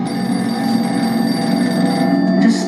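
A telephone rings loudly and continuously with a sustained electronic bell tone and no talk over it.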